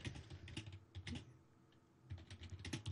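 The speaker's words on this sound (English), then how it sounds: "I'm sure you keep typing and typing and typing" Quick, uneven keystrokes on a computer keyboard as page content is entered, close and clear, with a short pause in the middle before the tapping resumes.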